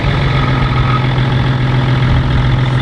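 A BMW 5 Series E39 engine runs at a steady idle after starting, with a loud, constant low drone and no voices throughout.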